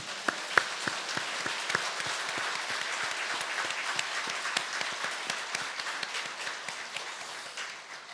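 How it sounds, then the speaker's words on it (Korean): A church congregation claps during a Sunday worship service, a steady wash of applause with sharp individual claps standing out, moderately loud and continuous throughout. "오늘 영광의 박수를 드리기를 축복합니다"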